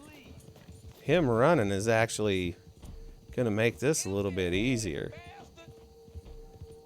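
A horse in a video game gallops with steady hoofbeats, mostly buried under a man's loud, excited commentary, with the hooves clearer in the brief pauses between his phrases.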